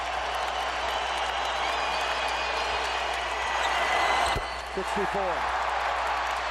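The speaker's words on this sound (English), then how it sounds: "Crowd's on its feet for a career high for Kobe." Broadband roar of an arena crowd cheering and applauding Kobe Bryant's career high at a Lakers vs Raptors basketball game, sustained and loud, with a thump and a brief voice near the end.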